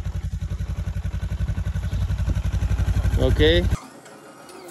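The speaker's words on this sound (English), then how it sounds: "so one button, the bike's on. That's Honda right there for you." A Honda CB500X motorcycle cranks in the cold after a night at minus 26 degrees. Rapid starter chugging builds for several seconds, then the engine catches and settles into idle, with a brief spoken word over it.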